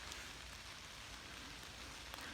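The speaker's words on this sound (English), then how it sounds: "it's still raining now" Steady rain falls outdoors in woodland during a hike, a soft, even hiss with scattered faint drop taps and no voices, quiet and continuous throughout.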